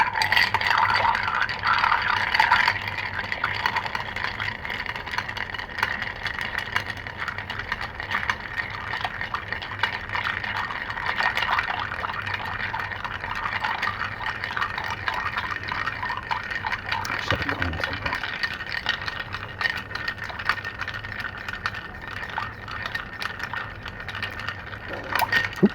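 A Vieux Carré cocktail is stirred with ice, producing a continuous close rattle and tinkle of cubes against the glass and spoon that holds steady for the whole stretch, with no talking.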